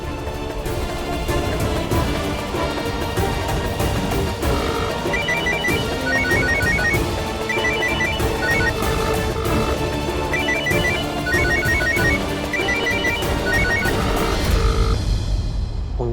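A telephone rings steadily with a repeating electronic ringtone pattern in bursts, loud and continuous over a background of dramatic music, with no talking.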